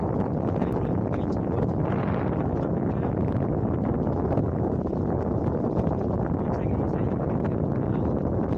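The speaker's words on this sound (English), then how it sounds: "You can't hear him very well because of the wind." Wind buffeting an outdoor microphone on an icy morning, a constant loud low rumble that masks everything else.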